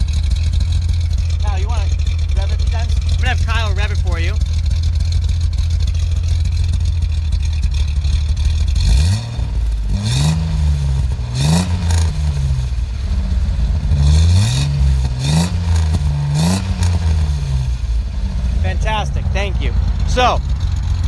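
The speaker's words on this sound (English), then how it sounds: "Kyle, you want to rev it a few times? I'm going to have Kyle rev it for you." A warm 1971 Datsun 240Z idling steadily, then revved several times in quick rising-and-falling bursts, loud and close, with brief talk near the start and end.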